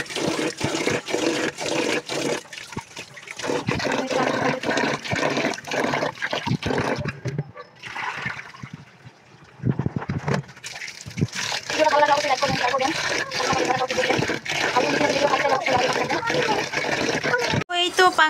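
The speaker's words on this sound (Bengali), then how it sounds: "এই তো চাল ধুয়ে নিচ্ছি।" Running water splashes steadily while rice is washed by hand in a home kitchen, loud and close, with a brief quieter pause midway and a voice talking over it.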